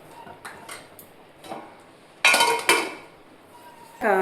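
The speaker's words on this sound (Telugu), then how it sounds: "ఇప్పుడైతే మనం ఒక 5 నిమిషాలు మూత పెట్టేసుకుందాం." Metal lid set onto a cooking pot in a home kitchen while making a gram-flour curry: a few light taps, then two louder clanking metallic strikes and a final ringing clink, close up.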